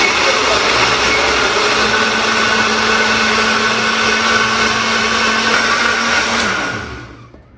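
An electric blender grinding apple juice, roaring as a loud, steady whir at full speed, then winding down and cutting off near the end, with no talk over it.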